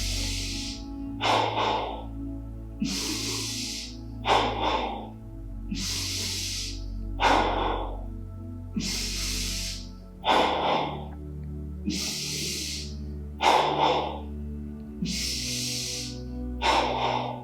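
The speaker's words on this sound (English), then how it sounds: "So, 30 breaths, second round, 10 in the belly to begin." Rapid rhythmic breathing during a guided yoga session, roughly ten forceful breath bursts spaced about every second and a half over a low steady background, up close with no talking.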